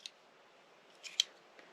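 A Leatherman Surge multitool's bit holder folds back into place with a quiet metallic click, preceded by faint handling rustle, close and brief.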